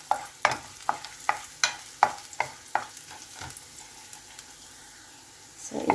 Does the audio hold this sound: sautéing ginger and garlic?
yes